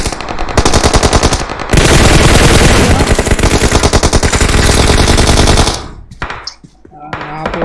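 Automatic gunfire in a shooting video game rattles in long, rapid, loud bursts, then drops to a gap broken by scattered single shots and short volleys.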